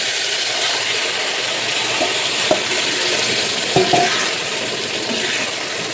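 Spinach hits hot oil in a home kitchen with a loud, steady hiss of sizzling, marked by a couple of brief clanks from the pan, with no voices.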